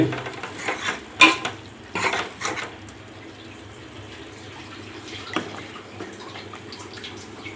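Mutton biryani is stirred in a pot, with a few clanks and scrapes of a metal spoon against the vessel in the first seconds. A quieter, softer stirring texture follows, with one more knock near the end.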